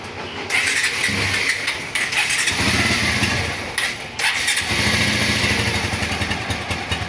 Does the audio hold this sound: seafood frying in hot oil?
no